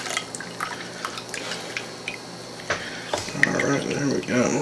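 Juice draining from an opened can of pineapple in a kitchen, dripping and trickling into a container, with a steadier pour building in the last second or so as someone speaks over it.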